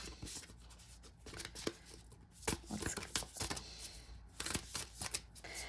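Tarot cards being shuffled by hand, a soft papery riffling and sliding that comes in uneven bursts, close and quiet, with no talking.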